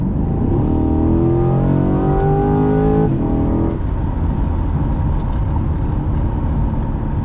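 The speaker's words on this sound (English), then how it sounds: "once I come out of this turn, the way it could just accelerate on the dime" A 2021 Chevrolet Corvette C8 accelerates out of a turn, its engine note climbing loudly in pitch for about three seconds before easing into a steady, lower drone heard up close from inside the car.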